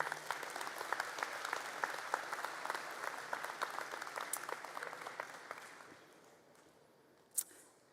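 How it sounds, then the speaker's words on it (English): Steady applause from a crowd at a university convocation ceremony, dense clapping that fades out toward the end, with a single sharper clap near the close. "I think she deserves another round of applause"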